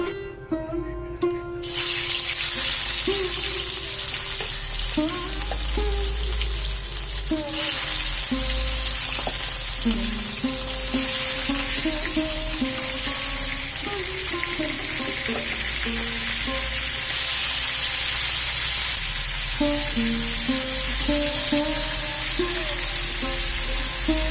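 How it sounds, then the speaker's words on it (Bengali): Rohu fish pieces and chicken pakora fry in hot oil on two stoves, a loud, continuous close-up sizzle with occasional clatter of utensils and faint background music. "সবার প্রথমে তো রুই মাছ ভাজা আর ওইদিকে চিকেন পকোড়াটাও বসিয়ে দিয়েছি।"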